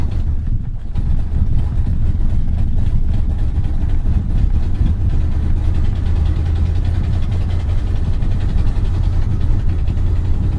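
A 1968 Cadillac V8 idles loudly and steadily with a deep, uneven rumble, running rough and not firing on all eight cylinders, heard up close without talking.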